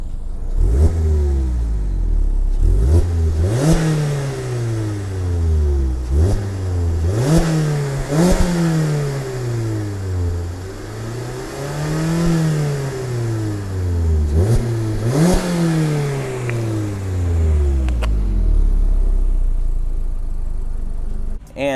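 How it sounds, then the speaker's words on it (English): A 2019 Mazda MX-5 Miata RF revs repeatedly through twin exhausts, each blip rising sharply and falling back toward idle, loud and close with no talk. "Got your twin exhausts right here in the back."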